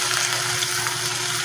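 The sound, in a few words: vegetables being sautéed in a pan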